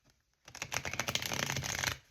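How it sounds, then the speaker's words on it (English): Tarot cards riffled in a quick close shuffle, a dense burst of papery flutter lasting about a second and a half after a brief quiet start, no talk. "I'm going to shuffle one more time."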